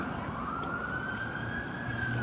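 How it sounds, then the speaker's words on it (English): Ambulance siren during a cold, windy night in Las Vegas, a steady rising wail carrying over constant wind and traffic rumble, moderately distant. "Okay, we got an ambulance."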